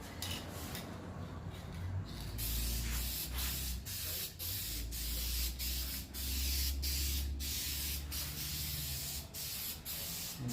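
Spray paint hisses in repeated short bursts with brief gaps, close and loud, as a third coat goes onto a polyurethane lip kit for a 1996–2001 Honda Prelude.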